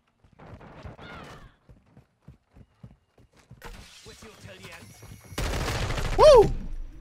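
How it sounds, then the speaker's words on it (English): Gunfire in the Call of Duty: Modern Warfare II beta, with scattered distant shots and clicks under someone talking, then a louder burst of heavy firing near the end. "Ooh, these guns are really loud."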